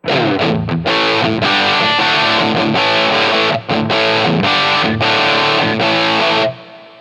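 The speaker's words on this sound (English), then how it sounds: "just a simple little rock preset with a little reverb on it" Loud distorted electric guitar through a Line 6 POD Go rock preset, playing chunky rock chords and riffs with a touch of reverb, ringing out and cutting off near the end.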